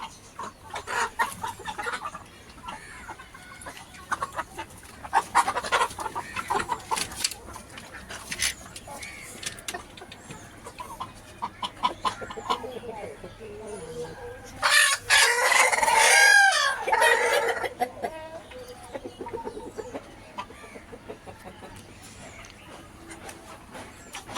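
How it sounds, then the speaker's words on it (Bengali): Laying hens cluck and chatter nearby, growing louder in a noisy burst of squawking midway, with a rooster crowing among them. "এদিক দিয়ে হলো আমাদের ডিম পাড়া মুরগি"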